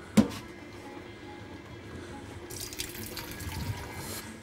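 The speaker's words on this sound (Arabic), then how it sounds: "اجيب بقى شويه الميه" Water runs or is poured in a kitchen while dough for cheese, spinach and thyme pies is prepared. A sharp knock comes first, then a soft, fairly faint trickle and splash that grows steadier partway through.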